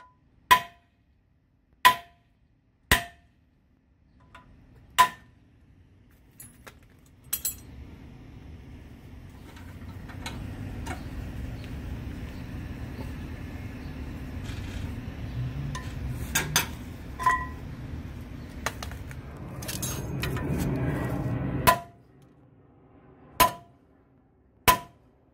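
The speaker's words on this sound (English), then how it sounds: "Put at least a 17mm socket under the rivet and hammer it out." A rivet is hammered out of the front suspension of a Chevrolet Sonic over a 17mm socket, with sharp metallic hammer strikes at the start and end and a stretch of rattling, grinding metal work in between.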